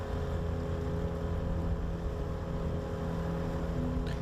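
A fishing boat's engine idles back up on the Fox River near Green Bay as it swings around for another trolling pass, a steady low motor drone running continuously at moderate distance with no talk.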